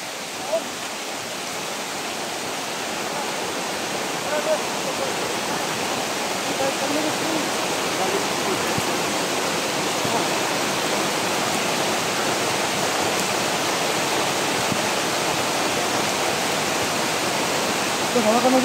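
Heavy rain pouring steadily, a dense, continuous broadband hiss that stays loud and unbroken, with faint voices talking underneath.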